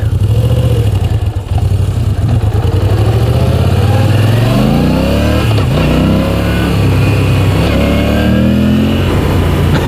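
A 2016 Moto Guzzi V9 Bobber engine runs steadily and loud throughout, its pitch rising and falling as it revs up and eases off while riding in city traffic.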